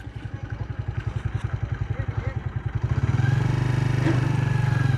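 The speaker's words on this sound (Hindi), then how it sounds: "अभी ट्रैक्टर जी रिवर्स ही लेके जाएंगे शायद" A tractor engine runs with a steady rhythmic low chug, then grows louder and denser as it turns near a trolley unloading spot on a roadside shoulder construction site.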